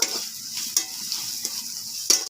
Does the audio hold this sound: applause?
no